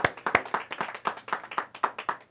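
Rhythmic clapping from a church congregation during a Spanish-language sermon, steady sharp claps in a regular beat, moderately close and fairly quiet, with no talking over it.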